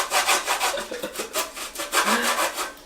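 Food is scraped back and forth across a hand grater in quick, rhythmic rasping strokes, close and fairly loud, about a dozen passes with no talking.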